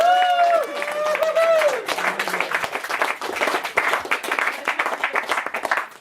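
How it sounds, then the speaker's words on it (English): An audience breaks into dense applause and cheering after a voice speaks at the start, the clapping loud and sustained to the end. "Even the little one was cheering then."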